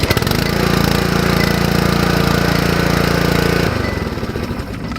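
A petrol pressure washer engine starts and runs steadily at a loud, close, constant drone for several seconds, then the tone shifts and drops slightly near the end.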